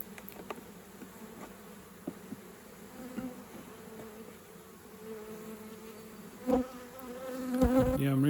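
Honey bees buzz steadily around a polystyrene hive, a dense low hum with occasional closer passing insects, swelling louder toward the end as handling noise thumps in near.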